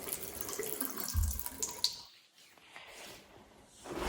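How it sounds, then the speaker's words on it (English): A waterfall-style bath tap in an 1800s French country home pours water in a soft, steady rush, fading away toward the middle and swelling again at the end, with no voices. "I do love these taps that I chose where it just sort of pours out like a waterfall."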